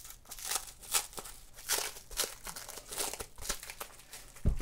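Cellophane wrapping is crinkled and peeled off a comic book, a close, quiet series of sharp crackling rustles in irregular bursts, without talk.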